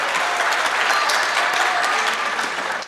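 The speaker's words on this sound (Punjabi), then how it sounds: "ਭਰਪੂਰ ਤਾਲੀਆਂ ਚਾਹੀਦੀਆਂ ਦੋਨਾਂ ਟੀਮਾਂ ਵਾਸਤੇ।" A live audience claps loudly and steadily for both competing teams at a comedy contest in Faisalabad, a dense, sustained wave of applause with a crowd murmur, close and continuous throughout.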